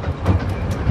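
A North Bay Railway train runs along the beach at Scarborough, heard from on board as a close, steady rumble with rhythmic clicks of the wheels over rail joints during a short moment.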